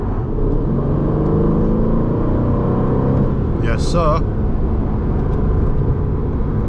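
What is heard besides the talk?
Aston Martin sports car engine while driving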